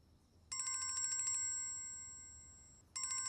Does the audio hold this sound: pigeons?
no